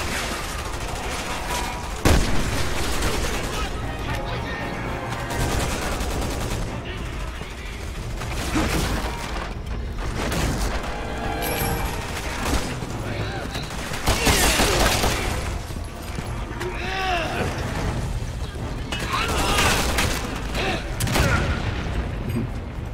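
Gunfire in the video game Resident Evil 6 crackles in bursts with heavy booms and mechanical clatter, loud and dense, while a voice talks over the action.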